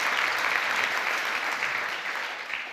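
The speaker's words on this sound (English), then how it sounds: "I think that deserves an applause." Continuous audience applause at an agriculture symposium, thick steady clapping that holds level and eases slightly toward the end.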